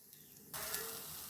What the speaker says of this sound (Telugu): ఇప్పుడు వేగుతుంది కదా